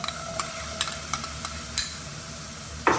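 Edamame beans hitting a hot dry pan with toasted cashews, a low steady sizzle with scattered light ticks and taps of stirring, close and fairly quiet with no talking.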